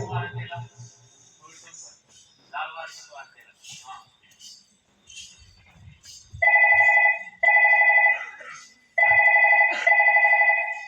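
A telephone rings three times in steady electronic bursts after a stretch of people talking; the rings are loud and close, with pauses between them.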